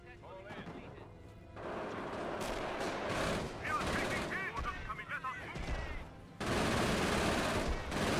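Machine gun fire in the World War II strategy game Company of Heroes crackles in dense repeated bursts among booms and explosions, loud and continuous with a heavier burst near the end.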